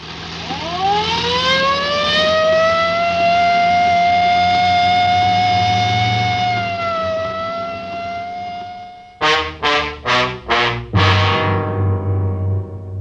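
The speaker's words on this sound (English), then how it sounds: "I better use the light and siren, Frank." A police siren winds up into a long, loud wail, then switches to a rapid, pulsing yelp of short repeated bursts.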